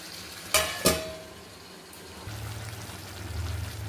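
Chicken masala cooking covered in a pan with home-ground spices: two sharp clanks of a lid or utensil, then a steady low sizzle and bubbling that rises gradually, with no talking.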